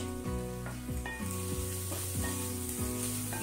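Onion, beans and capsicum frying in a pan for vegetable hot and sour soup, a steady loud sizzle with repeated scraping stirs at a regular rhythm, close up and without talk.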